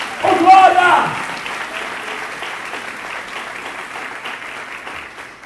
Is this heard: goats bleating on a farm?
no